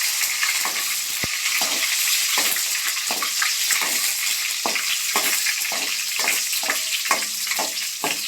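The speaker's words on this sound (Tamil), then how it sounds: "உள்ளியை போட்டு 2 வதக்கி வதக்கணும்." Garlic and curry leaves sautéing in a pan while cooking Nagercoil theeyal, a steady loud sizzle with repeated stirring scrapes at a regular pace, close and without talk.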